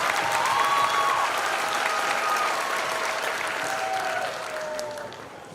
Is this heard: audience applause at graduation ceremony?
yes